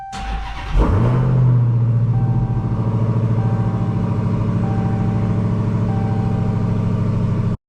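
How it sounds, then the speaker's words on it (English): Loud car exhaust on a newly fitted system, with a sharp cold start that settles into a strong, steady, deep idle rumble lasting several seconds, close by and alone. "I'm gonna miss this sound, this rumble, this cold start, this strong idle."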